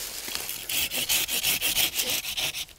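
Hand saw cutting through wood outdoors in a woodland setting, a steady rhythm of rasping back-and-forth strokes, close and fairly loud, with no talking.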